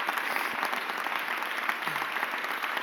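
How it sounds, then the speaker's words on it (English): Applause at a mayoral press conference on the city budget, a steady patter of many hands from a moderate-sized crowd in a room, even and sustained throughout. "Give that a round of applause, Mr. President"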